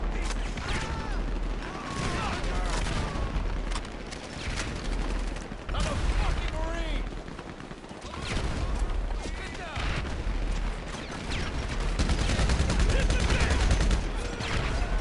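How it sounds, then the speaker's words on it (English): An artillery barrage rumbles during a GTA Online game, with a dense wash of explosions, gunfire and mechanical clatter rolling on continuously, loud and close, under occasional voices. "Commencing artillery barrage."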